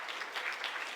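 A church congregation in Gimhae claps briefly to encourage the church school children, a soft, steady patter of many hands at a distance.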